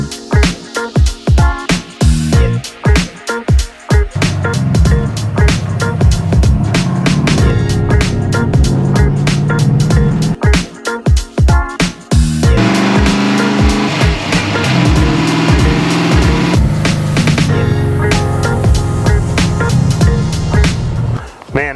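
A green Chevrolet Monte Carlo G-Body, fitted with aftermarket suspension, drives loudly with a rumbling engine and shifting revs, broken up by sharp rhythmic thumps and rattles.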